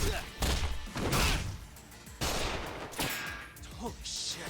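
Enemy gunfire rattles through a fight in the Judgment video game, several loud bursts of shots and impacts in an uneven rhythm, close and punchy, with thuds and clatter between them.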